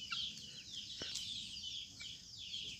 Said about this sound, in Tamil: நம்ம வெள்ளை சேவல்.